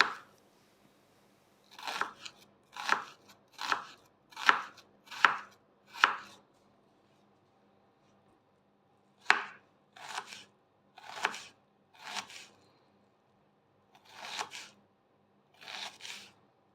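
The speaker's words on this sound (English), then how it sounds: "Very finely chopped up onions." A knife chops onions finely on a board in quick, even taps, first a run of about seven, then a pause, then further spaced strokes, crisp and close against an otherwise quiet room.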